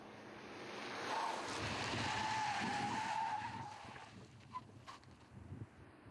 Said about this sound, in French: j'ai complètement perdu le contrôle de mon véhicule